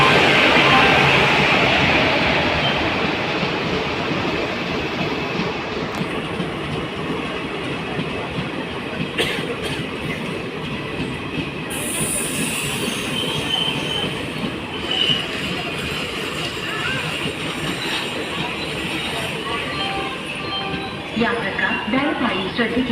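Chennai Egmore–Guruvayur Express at Trichur station, a long steady rumble of rolling rail cars with occasional wheel squeals and clatter, loud and continuous throughout, with faint voices in the background.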